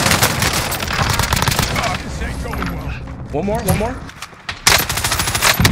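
Rapid bursts of machine-gun fire from a shooter video game, with several bursts near and loud and scattered shots in between, mixed under the excited talk of players.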